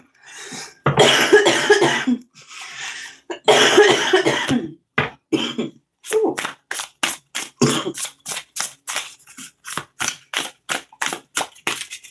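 A person coughs hard after smoking weed, starting with two long, raspy coughing fits and then a rapid run of short, sharp coughs, close and loud.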